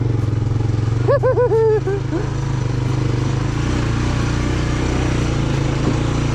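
A 1987 Honda TRX 250 ATV engine runs steadily in dirt, a continuous close drone throughout, with a brief tonal whine or voice-like sweep rising over it near the start.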